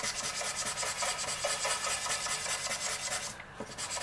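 Ohuhu alcohol marker chisel tip block-colouring on paper, a steady close scratchy rubbing that runs continuously with faint rhythmic strokes throughout.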